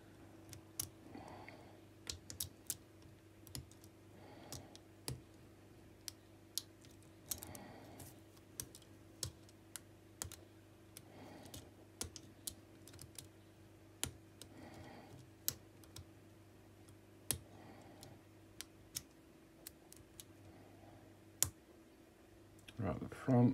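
Clicks from picking a challenge lock rigged with serrated pins, sounding as sharp, repeated ticks spread across the clip over a low steady hum, with soft talk in between.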